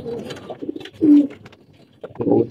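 Pigeons coo in soft, low, throaty bursts, a few separate calls close by in a quiet outdoor setting, with gaps of near silence between them.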